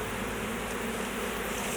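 A honey bee swarm being put into a hive box, a dense, steady buzzing hum of many bees filling the air up close, continuous and loud with no talk.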